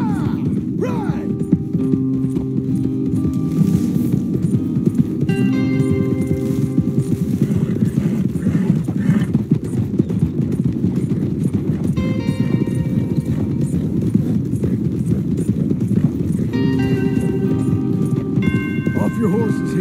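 Several horses gallop in Red Dead Redemption 2 with fast, steady hoofbeats over a loud, continuous rumble, with occasional whinnies and snorts and some talk mixed in.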